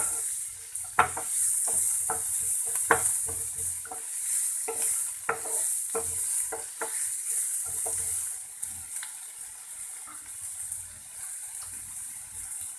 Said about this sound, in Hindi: प्याज को हम 1 मिनट के लिए भूनेंगे ताकि उसका थोड़ा कच्चापन दूर हो।